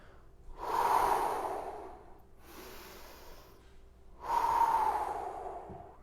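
Two deep, audible breaths taken during a home stretching workout, each a long airy exhale rising and fading, separated by a quieter pause, close to the listener.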